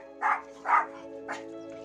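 A dog in a home barks three times at moderate distance, in two quick woofs and then a softer one, over a steady tonal background hum.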